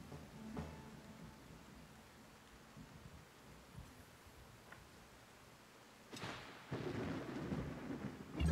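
Thunder during a lightning storm in the video game Wartales rumbles low and distant at first, then a louder crack and heavy rolling rumble swells toward the end over a steady rain-like hiss.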